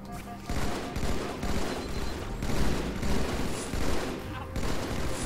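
Repeated battle rifle bursts in a Halo 2 match, loud and close, firing in steady three-round volleys with a few short pauses, mixed with other gunfire and game noise.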